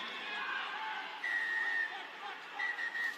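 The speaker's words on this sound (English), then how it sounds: "Referee Luke Rogan blows his whistle again" A referee's whistle at a Major League Rugby match between California Legion and Chicago Hounds, a few thin sustained blasts heard faintly over a murmuring stadium crowd.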